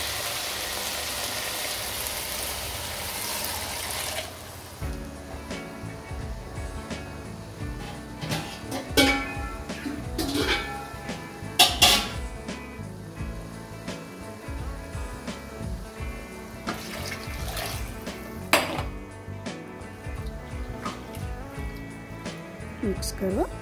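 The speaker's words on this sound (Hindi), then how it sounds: "तीन जग पानी डालो।" Water splashes into a cooking pot while mint khichdi is prepared, a spattering pour with scattered clinks and splashes over most of the stretch and a louder rush at the start, while a voice talks throughout.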